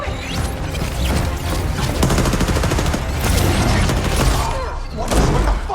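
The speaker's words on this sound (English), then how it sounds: "What is with the fireworks?" Rapid fireworks explosions in the video game Apex Legends crackle and pop in a dense, continuous barrage, loud and close, with bursts swelling near the end.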